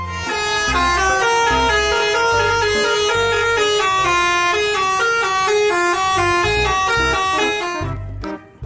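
Toy bus horn honking in a melodic tune, a loud run of bright electronic tones with a steady beat pulsing underneath, ending abruptly with a short pause and click.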